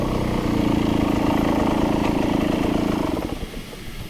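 A dirt bike engine idles on a trail in Palisades, Idaho, a close, steady low chugging rumble with mechanical clatter that drops off and sputters near the end. No talking.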